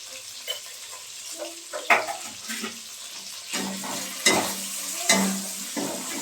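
Ground spices (chili powder, coriander, cumin) with a little sugar sautéed in a pan, with repeated stirring scrapes and soft sizzle coming in short bursts, close by and without talk.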